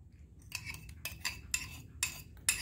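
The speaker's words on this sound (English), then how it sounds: "We're gonna stir that in." A metal spoon stirring cracked green beans in a pot, producing rhythmic scraping bursts roughly every half second with clinks against the side, fairly close and quiet, without speech.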